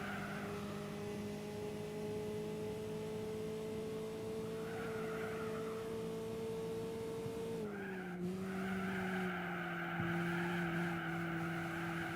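A 4-cylinder car engine in Gran Turismo 4 racing at a steady high drone that dips slightly in pitch partway through, sounding continuous and fairly quiet with no talk.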